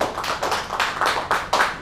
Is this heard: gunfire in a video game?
no